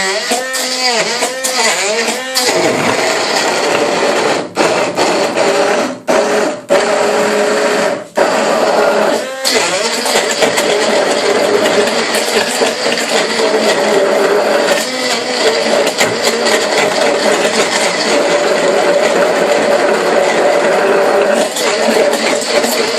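A blender whirs loudly and continuously, blending an avocado smoothie with no milk, with brief stutters and dips in the motor's roar near the start before settling into a steady high-speed grind.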